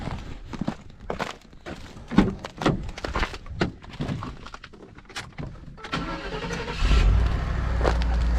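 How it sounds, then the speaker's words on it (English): A pickup truck starting on a cold morning: a series of thuds, steps and door knocks, then the engine turns over and settles into a low steady idle. "I'm gonna let the truck warm up for a few minutes."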